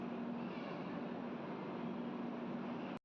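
The Machilipatnam–Bidar Superfast Express rolls slowly into platform one at a station, a steady low rumble with a faint hum, continuous and fairly quiet throughout.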